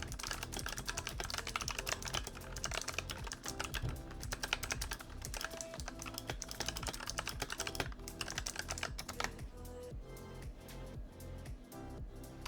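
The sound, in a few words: typing on an old Razer keyboard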